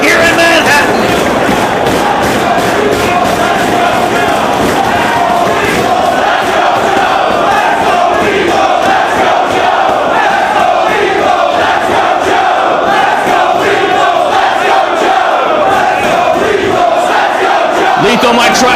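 A dense, roaring crowd at a professional wrestling pure title match in Manhattan cheers and chants continuously at high volume, with a commentator's voice layered over the steady din.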